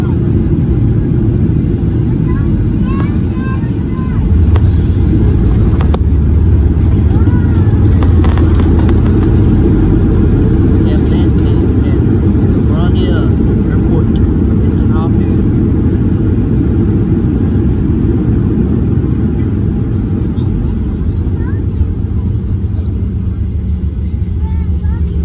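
Southwest Airlines jet landing at LaGuardia after a flight from Houston, heard from inside the cabin: a loud, steady low roar of engines and airflow that swells slightly partway through and holds continuously to the end.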